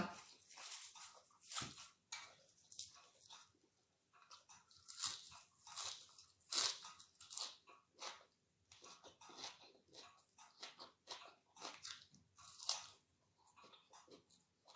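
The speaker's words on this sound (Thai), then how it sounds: "มากินแหนมทอดกันค่ะ" Crunchy fried naem, Thai fermented pork sausage, being bitten and chewed up close, with repeated loud crisp crunches in an irregular rhythm over about fifteen seconds and no talking.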